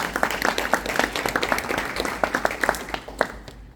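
An audience claps for a student group's final presentation, a dense burst of many hands clapping at once that continues for several seconds before thinning out toward the end.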